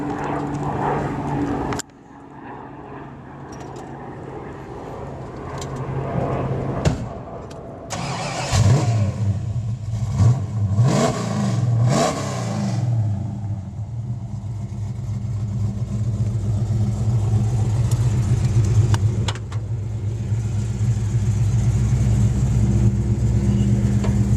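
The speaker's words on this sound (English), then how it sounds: "I'm going to run around and I'll start it so you guys can hear it out back, because it really does sound nice" A 1964 Ford Falcon convertible's engine is heard cranking and catching, then revving a few times before settling into a steady, loud idle heard up close from the back of the car.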